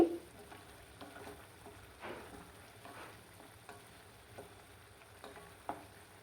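Dried fish frying in a pan as a spoon stirs it, a soft continuous sizzle broken by repeated light scraping and clinking strokes at close range, no speech.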